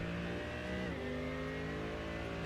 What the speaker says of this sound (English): you can just hear that V8 motor of the Mercedes singing as they get through the first full sector